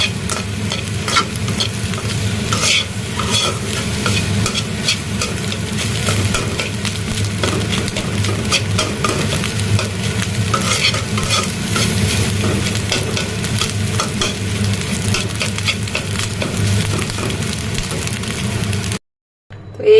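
Bhujia stirring and frying in a pan: a continuous loud sizzle with a busy scraping of the spoon against the metal, steady and close throughout, ending in a brief pause.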